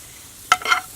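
Peppers and onions, sauteed beforehand, hit a grill running at 550 degrees with a short, sharp sizzle that flares up at once and then crackles briefly before settling to a faint hiss.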